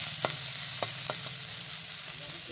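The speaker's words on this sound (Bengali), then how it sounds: "চুনো মাছ দিয়ে রান্না করবো তার জন্য চুনো মাছ দিয়ে তো চুনো মাছগুলো আমি ভেজে নিচ্ছি" Small chuno fish frying in oil for a Bengali dish of telakucha greens with potato and aubergine, giving a steady close sizzle with a few sharp spits and crackles and no talking.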